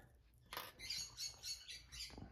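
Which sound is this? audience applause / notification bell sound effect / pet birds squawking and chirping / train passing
pet birds squawking and chirping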